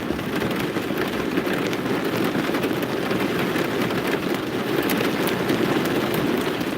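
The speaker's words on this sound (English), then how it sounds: "Oh, we're really getting the rain now," Heavy rain pours down outdoors in a steady, dense hiss that holds at a constant loud level throughout, with no voices.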